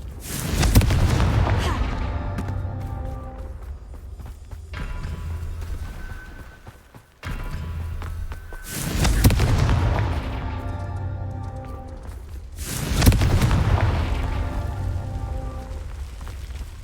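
Three deep booming blasts of the Confringo explosion spell in the video game Hogwarts Legacy, each spreading into a long rumbling, crackling tail, loud and spaced several seconds apart.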